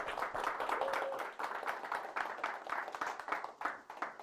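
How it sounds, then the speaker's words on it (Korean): Quiet, steady clapping from a seated audience at a business round-table forum lecture, rhythmic bursts of many hands that hold at an even level throughout and sound somewhat distant. "박수로 환영해 주시기 바랍니다."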